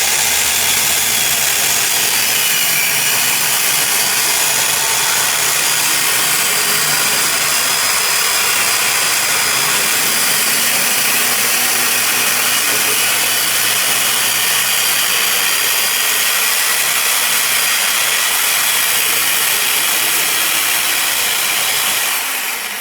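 Power saw cutting a kitchen countertop outdoors to make the opening for a stainless steel sink, a loud continuous grinding whine that holds steady throughout with no talk.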